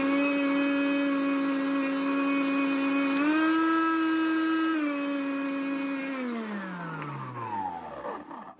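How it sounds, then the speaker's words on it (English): A faulty Henry vacuum cleaner motor whines steadily and loudly, its pitch stepping up briefly before sliding down as the motor winds down and stops, with no talking. "Not a happy motor."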